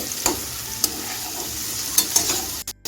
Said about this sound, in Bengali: এভাবে নেড়ে চেড়ে আমি কুমড়াটাকে আর একটু ভেজে নেব